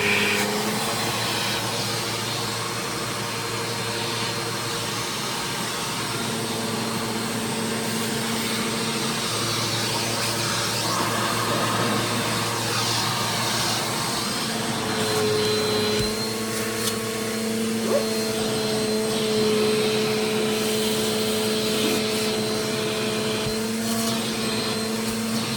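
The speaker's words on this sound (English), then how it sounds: "so I just vacuum up the dirt" A vacuum cleaner runs steadily for the whole stretch, sucking up spilled potting dirt after transferring seedlings, with a loud continuous whine and roar and small shifts in pitch, close and without talk.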